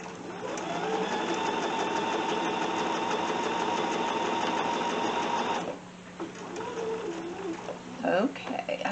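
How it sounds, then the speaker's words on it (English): A sewing machine runs in a long continuous stitching burst while sewing a fabric casserole cover with foam, then slows and stops, followed by faint handling noises and a few brief clicks. "I'll sew the rest."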